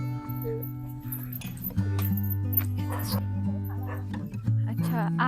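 A dog on a hill road in Ranikhet, an evening mountain town, yips and barks a few times at mid distance under steady talk and other background noise.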